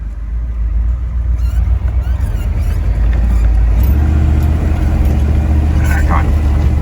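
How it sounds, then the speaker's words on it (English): A diesel Ford Highboy truck engine drones loud and close as it reverses through snow, a steady low rumble that deepens and strengthens partway through, with a voice talking over it. "we're gonna go ahead and put it in reverse because I don't want to slide into that rock wall"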